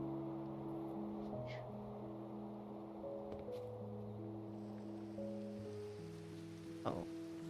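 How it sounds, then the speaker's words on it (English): Rain falling in the Minecraft video game, heard as a faint, steady hiss beneath soft, sustained background music, with one brief sharper tick near the end. "Oh, and it's even raining."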